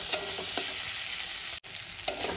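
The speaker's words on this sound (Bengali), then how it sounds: "মশলাটা ভালো করে কষিয়ে নেব।" Fried potatoes with coriander, cumin and chilli powder being stir-fried in a pan, a constant sizzle broken by a few distinct spatula scrapes and one brief dropout in the middle.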